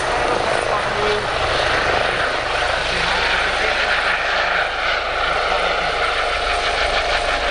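A Juno helicopter at an airshow throbs with a steady, loud rotor and engine roar that fills the whole stretch, while an announcer's voice talks faintly over a public-address system.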